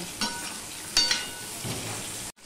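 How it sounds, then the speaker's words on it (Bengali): Pointed gourd pieces fry with salt in a pan, giving a soft steady sizzle punctuated by a few spatula stirs and scrapes, close but quiet. "নুন দিয়ে আমি পটলগুলো ভালো করে ভেজে নেব।"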